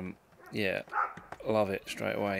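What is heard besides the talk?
dog barking in the background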